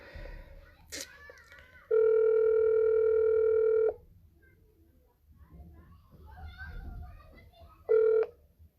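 A telephone call tone sounds while dialing, a long steady electronic beep lasting about two seconds and then a short repeat, with faint voices and child chatter in the background.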